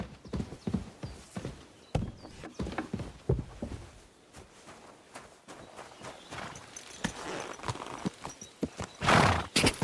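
Horse hooves clip-clopping at a walk with a whinny, from the medieval game Kingdom Come: Deliverance 2, heard alongside game sounds and briefly under a voice, with a louder burst near the end.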